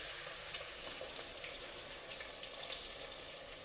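Water pours into a pan of crab curry on the stove, a quiet, continuous hissing wash with a single small clink partway through and no talking.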